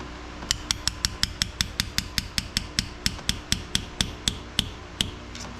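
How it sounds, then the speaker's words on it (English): A hammer lightly taps a 12mm socket to seat valve seals during a C5 Corvette cam swap, producing about twenty crisp metallic ticks at a steady, even pace, close and clear with no speech. "take a 12mm socket, lightly tap it with the hammer, and you'll be able to hear when it fully seats on there"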